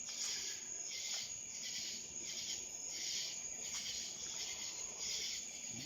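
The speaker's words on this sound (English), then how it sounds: "A few crickets here and there I've seen." Steady, dense chirping of crickets at night, a continuous high trill pulsing evenly throughout, fairly faint and with no voices.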